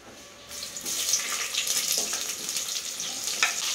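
Whole spices and bay leaf frying in a pan for mushroom biryani, a steady broadband sizzle starting after a quiet half-second, with a few brief crackles and scrapes, nearby and fairly loud with no talking.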